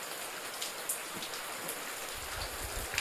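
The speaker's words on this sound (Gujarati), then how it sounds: "જો વરસાદ ચાલુ છે" Steady rain falls outdoors, a soft continuous patter with scattered individual drops ticking on surfaces, faint and constant from start to finish.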